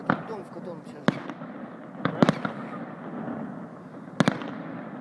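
Fireworks display at Chimbulak, Kazakhstan, with sharp bursts and pops at irregular intervals against a steady crackling rumble, while people talk over it.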